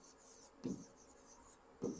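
Handwriting on paper during a Hindi agriculture lesson about radish varieties, soft scratchy pen strokes in short bursts with two slightly louder taps, faint and close with no talking.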